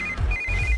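A phone ringtone rings loud and close in two short tonal bursts with a brief gap between them, with a low rumble underneath and no talking.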